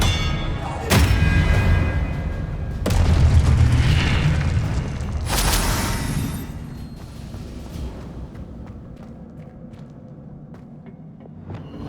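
Confringo spell explosions in the video game Hogwarts Legacy land as three heavy booming blasts spaced a couple of seconds apart, each trailing into a rumble, over a low background drone.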